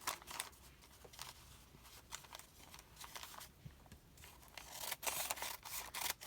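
Scissors cut through craft material with quiet, close snips and rustling, a series of small irregular cuts that grow a little louder toward the end.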